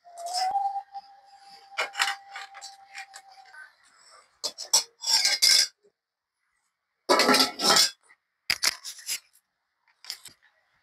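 Metal pot of spicy crab curry, cooked in oil and chilli, lifted off the stove: scraping, clinking clatter in several short bursts separated by silences, close and fairly loud, with a brief whine early on.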